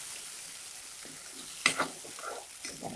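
Chili sauce mixture stirred in a frying pan, with a steady soft sizzle throughout and a few scraping strokes of the utensil, close and without speech.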